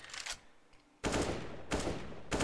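Rapid automatic gunfire in Counter-Strike on the Overpass map, a short burst followed after a pause by a long sustained spray and another burst, loud and dense with no talk over it.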